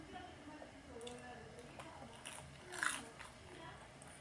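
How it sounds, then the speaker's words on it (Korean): A single crunchy bite into a Korean croquette (goroke), close to the microphone, followed by soft chewing over a low background hum. "오늘의 마지막 고로케 한입"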